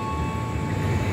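A commuter train rumbles steadily past at close range through an Indonesian station, a continuous low mechanical roar with a faint high whine above it.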